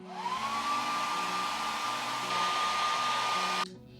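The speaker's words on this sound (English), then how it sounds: "so I had to get the hairdryer out and heat it up" A hair dryer blows steadily on a sticker stuck to a carbon mountain bike frame, a loud continuous whine and rush holding for several seconds before cutting off abruptly near the end.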